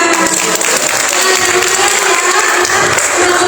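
Steady, dense applause from a workshop audience at a job fair, many hands clapping at once, loud and continuous throughout with no voices standing out.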